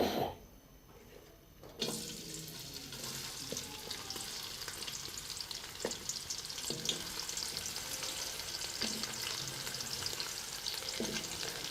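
Onions fry in hot ghee in a kadhai, a quiet pause giving way to a continuous crackling sizzle with scattered stirring knocks and spatter, steady for several seconds without speech.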